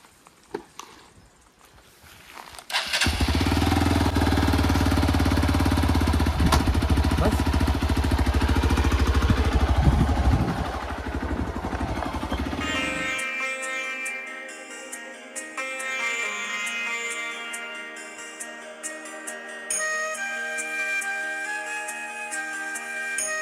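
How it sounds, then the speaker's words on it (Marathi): A motorcycle on a village road beside sugarcane fields starts up after a quiet moment and runs loudly with a rough, throbbing engine for about ten seconds before music takes over. "मस्त अशी बाईक आहे आणि आता मी चालवणार आहे"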